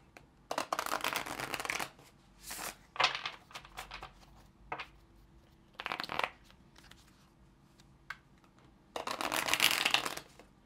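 Tarot cards being shuffled by hand in quick riffling bursts separated by short pauses, close and fairly quiet, with a longer bout at the end.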